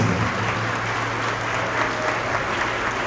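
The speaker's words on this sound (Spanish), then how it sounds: "Me honran sus aplausos" Sustained audience applause in a church gathering, dense steady clapping from a crowd filling the whole stretch at an even, fairly loud level.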